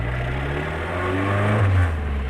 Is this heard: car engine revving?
yes